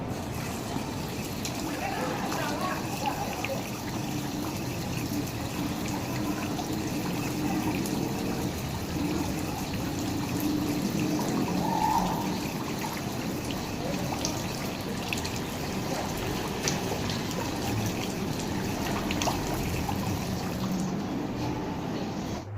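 Hands being washed under a running tap before dressing a burn wound, a continuous steady splashing stream of water with faint speech in the background.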